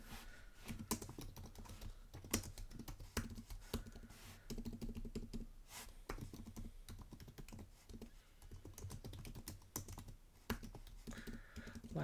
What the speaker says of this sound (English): it takes me a minute to adjust typing on this other keyboard